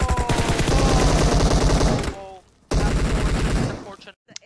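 Rapid gunfire bursts in a PUBG Mobile quarter-final match, loud and dense, with an excited commentator talking over most of it before a brief lull and another burst.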